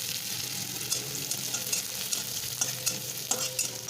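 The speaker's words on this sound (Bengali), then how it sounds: "হালকা করে পেঁয়াজটা নাড়াচাড়া করছি।" Chopped onions frying in a pan with curry leaves, a continuous close sizzle with light scraping stirs of a spatula recurring throughout.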